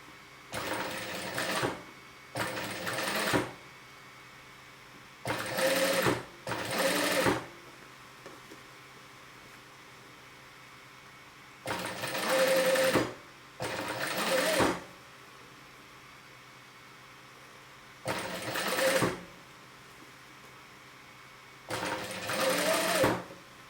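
A sewing machine stitches fabric while a neckline is finished with bias binding, running in eight short whirring bursts of a second or two, separated by quiet pauses as the work is turned.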